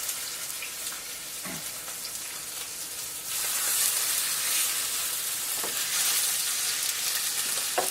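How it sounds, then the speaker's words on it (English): Pork chops searing in a hot, smoking pan with garlic and fresh rosemary give off a steady, loud sizzle that swells sharply partway through and keeps crackling and spitting until the end. "And then immediately we want the pork chops in while it's still smoking, because we want it really hot."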